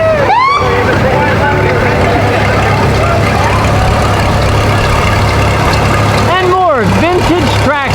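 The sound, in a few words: 1953 Massey Ferguson vintage tractor engine in parade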